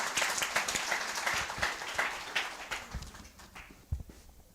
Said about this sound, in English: One more time, round of applause for Oyandani.